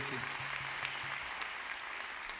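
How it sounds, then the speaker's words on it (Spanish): Audience applause at a candombe tribute event in honor of a musician, steady sustained clapping from a crowd, with a voice briefly heard beneath it. "un aplauso para Leo Méndez."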